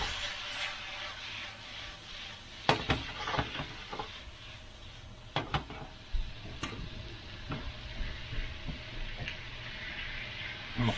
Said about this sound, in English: Keep that all stirred around and mixed up in there.